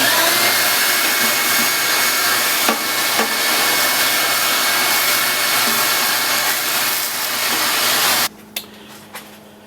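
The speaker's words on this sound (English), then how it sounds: "One of the best tools you can use for cleaning is a wet dry vac." A stainless steel wet/dry vacuum cleaning out a coffee roaster roars loudly and steadily with occasional knocks of debris, then cuts to a much quieter hum near the end.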